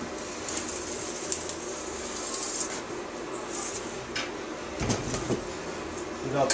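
A homemade gas tank tunnel bender rolls sheet metal between two rollers, giving a steady mechanical grinding hum with scattered creaks and squeaks and a few louder clunks toward the end.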